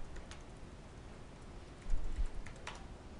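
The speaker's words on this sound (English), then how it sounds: "so just type it in." Quiet keystrokes on a computer keyboard as a password is typed, a few soft scattered clicks over faint room hiss, with a brief cluster of taps toward the end.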